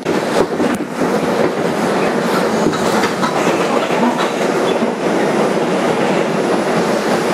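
A 2001 Bombardier 2 train, car #6676, runs on the IRT White Plains Road Local near Pelham Parkway. Its rumble and clickety-clack wheels are loud, close and continuous throughout.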